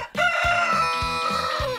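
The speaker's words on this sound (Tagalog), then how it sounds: "Sa tila malambing nilang tilaok." A rooster gives one long, drawn-out crow, loud and close, with nothing else around it.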